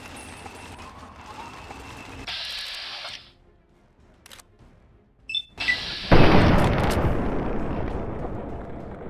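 Gunfire in Fallout 3, a post-apocalyptic shooter: a sharp bright burst, a near-silent gap, then a few short cracks leading into a loud, dense, sustained volley of blasts and rumble.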